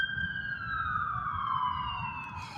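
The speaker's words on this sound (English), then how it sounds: "You see that siren? You hear the sirens right there?" A siren wails steadily with a slowly falling pitch over low traffic rumble in New Orleans, moderately loud and somewhat distant.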